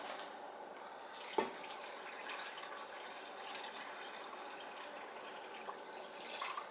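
Tap water runs steadily into a crockpot being filled for a sausage and seasoning dish, a continuous hissing splash after a brief clunk near the start, moderately quiet with no talking.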